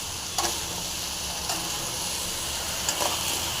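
A gooseberry pickle mixture with salt sizzles softly in a pan while a spoon stirs it, giving a constant hiss marked by a few sharp scrapes and taps, with no talking.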